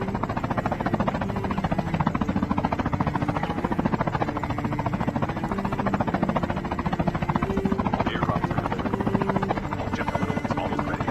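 A helicopter in the mobile shooter game Call of Duty Mobile flies steadily, its rotor chopping in a fast, even pulse with a constant engine drone throughout.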